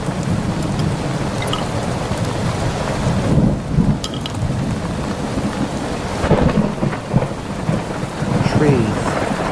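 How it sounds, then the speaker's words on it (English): A heavy thunderstorm sweeps over an island, with dense, loud rain pouring steadily throughout and deep rumbles of thunder rolling beneath it. "That night, a huge storm swept through the island of City."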